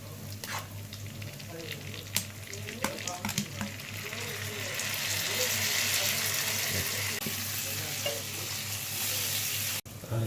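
Dried fish, onions, chillies and tomatoes fry in a pan with a steady sizzle and occasional stirring scrapes and clinks, close by, growing louder and hissier partway through, with no talking.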